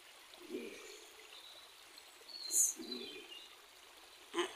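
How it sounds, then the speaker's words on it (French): A small stream flows through open fields in the countryside, a soft steady trickle and burble heard faintly and fairly distant, with a few brief bird chirps breaking through near the middle and end. "Le ruisseau qui coule à travers les champs."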